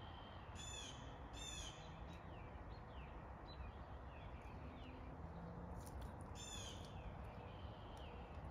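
Great horned owl calling in a quiet backyard, faint low hoots heard far off beneath steady background hiss, with a few higher bird calls scattered through.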